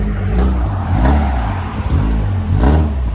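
A worn 1997 Toyota Corolla engine revs loudly close by, rising and falling twice over a steady idle rumble, with no voices.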